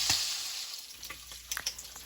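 Bacon frying in a pan gives a steady, close sizzling hiss scattered with sharp crackles and pops, with no voices.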